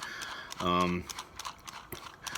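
The head cleaning set mechanism of an Epson SureColor printer winding up: a brief buzzing motor whine followed by a string of light mechanical ticks and clicks, fairly close and moderately quiet.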